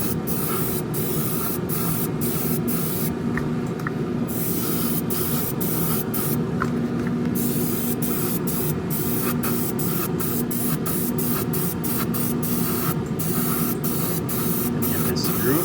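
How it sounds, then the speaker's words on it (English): Clear coat sprays in steady hissing bursts from an airbrush onto a Revell 1968 Pontiac Firebird 400 model car, close and continuous with a few short breaks, over a low room hum. "we're just going to be putting more clear coat on"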